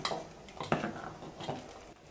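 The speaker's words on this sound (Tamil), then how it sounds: "நல்லா கலந்து விட்டுக்கலாம்." A spoon scrapes and clinks against a pot while green gram payasam is stirred, with a few sharp metallic knocks amid softer rhythmic stirring.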